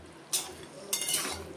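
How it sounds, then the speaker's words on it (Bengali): A pot lid lifts off mushroom chicken curry with a short metallic scrape, followed by a second, longer stirring scrape of a spoon in the pot over a faint sizzle. "ঢাকনাটাকে তুলে আবার একটু নেড়ে দেব"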